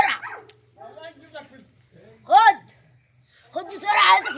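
A small farm dog gives a few sharp barks and yelps in short bursts, close by, mixed with people talking and a steady insect chirp in the background.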